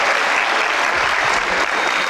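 A convention panel audience at Baltimore Comic Con with Wil Wheaton breaks into strong, steady applause, a full wash of many hands clapping at even loudness throughout, with no talking.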